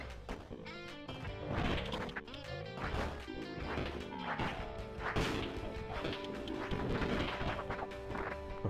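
Melee smashing attacks in the zombie game Death Road to Canada, a busy stream of repeated whacks and crunching impacts at an uneven rhythm, layered with game effects and cries, fairly close and moderately loud.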